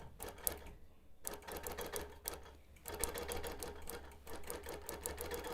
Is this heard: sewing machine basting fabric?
yes